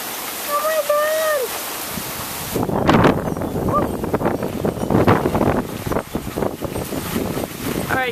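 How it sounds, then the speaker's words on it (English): Heavy rain and gusting wind during Hurricane Irene, a loud, steady roar of downpour and wind buffeting the microphone, preceded by a brief quieter stretch with birdsong and a person speaking. "Look at that rain!"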